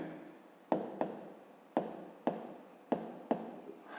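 Pen on paper during a grade 5 math exercise, with six sharp, separate strokes or taps spaced through the clip over a steady faint background, no talking.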